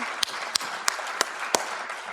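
Audience at an upper school science honor society induction ceremony gives the inductees a round of applause: soft, distant clapping punctuated by five evenly spaced, sharper nearby claps.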